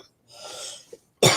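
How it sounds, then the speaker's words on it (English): A soft breath in, a brief pause, then one sharp, loud cough close to the listener. "there's another cough coming"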